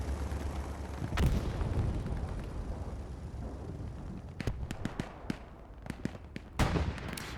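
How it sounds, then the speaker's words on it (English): Bombing-run explosions in the World War II shooter Hell Let Loose, on a winter cemetery map: a heavy blast booms at about one second, followed by a rapid string of sharp detonations and a final loud burst over a steady rumbling battlefield. "Bombing run called into cemetery from the Axis."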